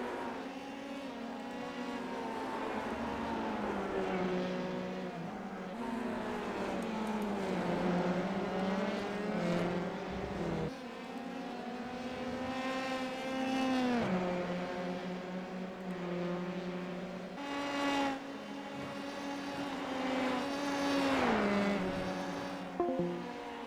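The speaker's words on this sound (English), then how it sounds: "Just amazing to watch these Formula 3 cars fly around this circuit." Formula 3 cars race around the Zandvoort circuit in sim racing. Screaming engines rise and fall through gear changes, passing one after another at a steady, fairly loud level, with no talk over them.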